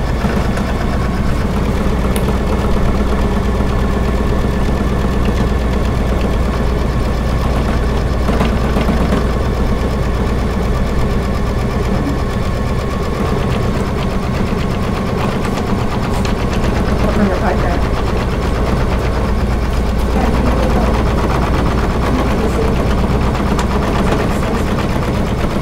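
A Kimberbell embroidery machine stitching lining fabric, a steady mechanical hum and rapid whirring that runs throughout at moderate loudness, with a person talking over it.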